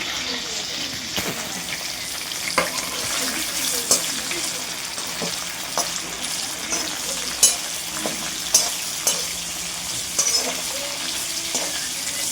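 Onions frying in a pan for paneer curry with bay leaf, a steady broadband sizzle with scattered crackles and occasional stirring clicks, close and continuous with no talking.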